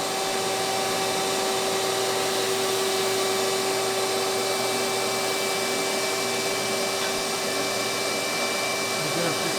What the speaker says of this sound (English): we'll vacuum clean that